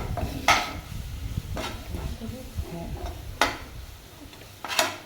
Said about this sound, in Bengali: দিয়ে ভালো করে আমি ভেজে নেব।